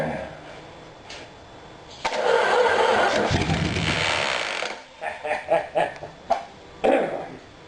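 A 318 engine being revived with ether cranks, then catches and runs roughly for a few seconds before sputtering into uneven bursts and a final brief rev, close and loud.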